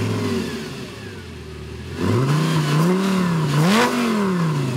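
A Lamborghini Gallardo's V10 engine, low and steady at first, then revving up with a rising, wavering pitch that climbs and dips over a few seconds, loud and close with no talking.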